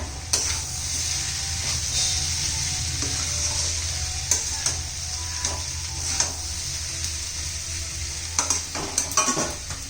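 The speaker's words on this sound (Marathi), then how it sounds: "व्यवस्थित मिक्स करून घेऊया" A spoon scrapes and clinks steadily through a raw papaya stir-fry as roasted peanut powder is mixed in, with a continuous soft pan sizzle underneath and irregular utensil knocks against the pan.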